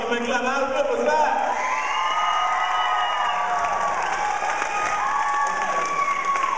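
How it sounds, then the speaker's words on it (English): An audience at a show featuring a five-year-old Michael Jackson impersonator claps and cheers, with voices, whoops and shouts from children and adults mixed into the steady clapping throughout. "come on, give me a clap out"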